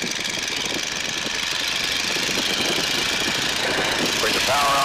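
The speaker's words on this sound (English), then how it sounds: "Bring the power on in, full bore. That's full throttle on the Boeing Stearman right there." A Boeing Stearman biplane's engine roars steadily at full throttle for takeoff, a dense, loud drone that holds throughout.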